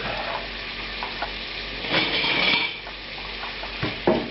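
Onions fry in clarified butter in a pan over medium heat, giving a steady close hiss and crackle, with a few soft clinks and scrapes of a utensil against the pan.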